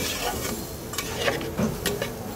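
Fish curry masala with water cooking down is stirred and fried in a pan, giving a soft, steady sizzle with occasional scraping and light metallic clinks of the utensil, close and moderate in level.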